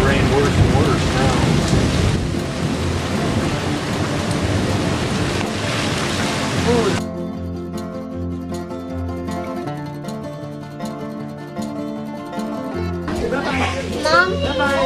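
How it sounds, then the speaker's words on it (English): Heavy rain pours down outdoors on Independence Day, a steady loud wash with deep rumbles that could be thunder. Voices talk over it. "It's starting to rain worse and worse now."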